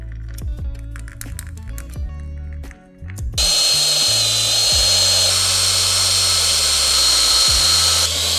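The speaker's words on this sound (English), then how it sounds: "Then drill the holes" A high, whining power drill drills holes in a plate, running steadily for several seconds, loud and close, after some clicks and knocks of handling.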